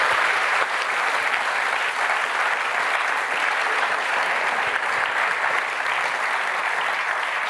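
Sustained applause from an audience greeting the grand prize winner at the Venture 2021 award ceremony, dense and steady throughout at even volume.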